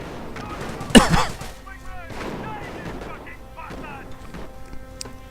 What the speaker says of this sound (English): And incendiary grenades once more.